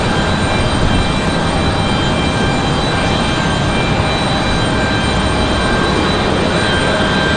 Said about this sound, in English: There's our CRJ departing